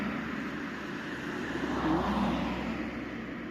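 A vehicle passes on a road where people are walking, its engine hum swelling gently near the middle and then easing, set against a steady background of traffic.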